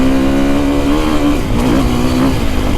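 A Husqvarna FE450 four-stroke dirt bike engine fitted with an Akrapovic muffler revs steadily and loudly up close, its tone rising and falling slightly as the throttle shifts, with no talk over it.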